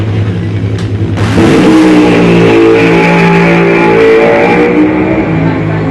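A drag racing funny car engine roars at full throttle, a loud, harsh, sustained blast that jumps in intensity after a second and holds steady, with a voice talking over it.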